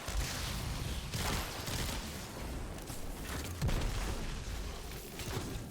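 Pulse rifle gunfire in the Destiny 2 video game, dense loud bursts of shots and booms blending into a continuous barrage across a few seconds.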